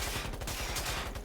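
Rapid automatic gunfire in a first-person video game, a steady rattling burst of closely spaced shots running the whole moment, fairly loud and with no talk over it.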